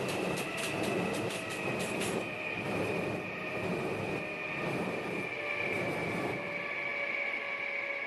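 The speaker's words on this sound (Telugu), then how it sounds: "ట్రాక్ సౌండ్ కూడా వస్తుంది" Rolling train and track noise from an Indian train simulator game on Android, a steady rumble with faint rhythmic clatter and a sustained tonal hum running throughout, with no voices.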